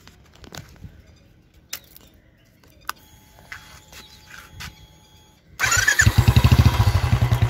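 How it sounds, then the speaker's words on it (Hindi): Quiet clicks and fiddling give way to a Royal Enfield Classic 350 BS6 with an aftermarket exhaust cranking and firing up, settling into a loud, rumbling, throbbing idle close by. "अब आपको मैं ऑन करके इसका एग्जॉस्ट नोट सुना देता हूँ"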